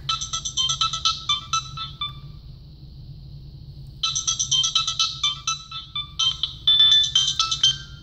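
A melodic Nokia 3587i phone ringtone plays in bright electronic beeps, pauses briefly with a held tone, then repeats its tune.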